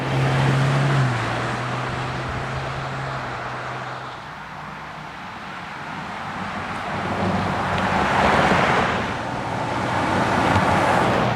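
A 2025 Ford Expedition Platinum Max SUV driving on the road, with a low steady hum of engine and tire noise that swells and fades slightly and carries a soft rush of wind, heard from inside with no talk.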